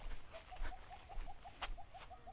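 A bato-bato bird calls in a forest of low, newly planted coconut trees near a river, a faint string of short repeated notes at a steady rhythm over a steady high insect drone.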